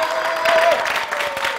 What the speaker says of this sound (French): Applaudissements pour vous et merci d'être venu.